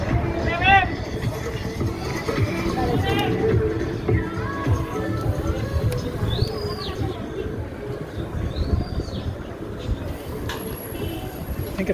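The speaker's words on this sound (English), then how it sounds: "I think I found the market." Busy outdoor market crowd in Rivas, Nicaragua, a steady murmur of many voices and movement close around, with brief bird chirps and a few high squeaks cutting through the din.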